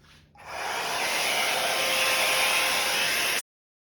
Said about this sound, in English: blow dryer out. Always put it on cool,